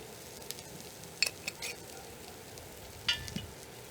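Peppers and onions sizzling quietly in a pan, with a few light clinks and scrapes as they are tossed and stirred, close but soft, no voices.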